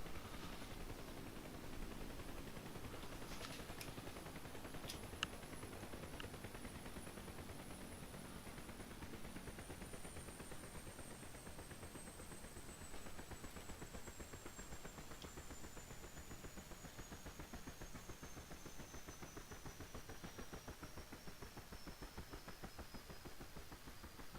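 Helicopter shutting down in the DCS flight simulator: a steady rotor and engine drone fills the whole stretch at low, even volume, while a high turbine whine slowly falls in pitch as it spools down.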